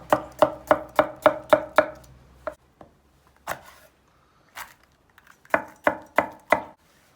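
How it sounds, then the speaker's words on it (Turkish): A knife chops onions coarsely on a cutting board in quick bursts, a run of sharp, close taps, a pause with a few scattered knocks, then another fast burst. "Soğanımızı biraz iri doğrayacağız."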